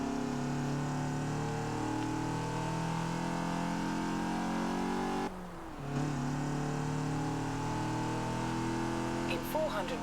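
A car in the racing game Forza Horizon 4 drones along at steady revs, briefly dipping mid-way before resuming, with someone talking over the continuous engine tone.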